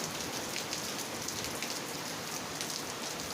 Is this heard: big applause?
no